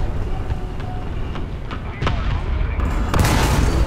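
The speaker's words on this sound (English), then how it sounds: "Artillery coming in." Artillery shells landing around an Israeli M-51 Super Sherman medium tank in War Thunder, several heavy booms in quick succession, loud and close, ending in a bigger blast with rumbling debris.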